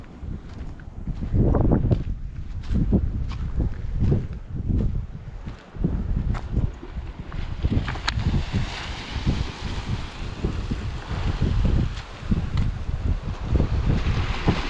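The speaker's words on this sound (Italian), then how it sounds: "C'è un po' di vento," Wind blows across the microphone in loud, rumbling gusts that come and go over a steady outdoor rush, at a sunny campsite.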